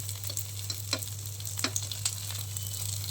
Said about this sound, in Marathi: दोन मिनिटं आपण असं जाऊन भाजून घेऊया